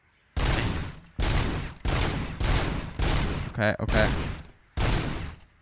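Gunfire at a shooting range in the RoboCop Rogue City video game, six loud, close single shots spaced roughly evenly with sharp attacks and short decays, and a brief spoken word among them.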